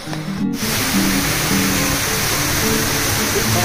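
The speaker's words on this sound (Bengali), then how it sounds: "পাহাড়ের খাদে খাদে জল নেমে আসছে ওদিক থেকে" Water rushing down rocky hillside streams in Purulia, a loud, continuous close roar of cascading flow after a brief opening bump.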